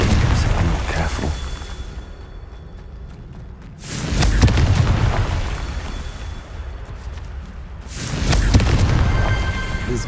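Confringo explosive spell blasts in the Hogwarts Legacy video game, two loud booming bursts a few seconds apart over a dense rumbling game soundscape, each swelling and fading.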